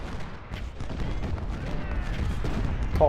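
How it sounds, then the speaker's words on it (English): Canister shot and artillery fire in the Civil War strategy game Ultimate General: Civil War, heard as dense, rumbling volleys of overlapping gunfire that roll continuously for several seconds at moderate loudness. "Don't want any more of that damn canister shot fired at us"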